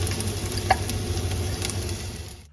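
Onions heat in a pan for a homemade infernal sauce, giving a steady, moderate sizzle over a low background hum, with one brief sharp tick early on before the sound cuts off at the end.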